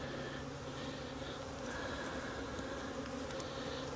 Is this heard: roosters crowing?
no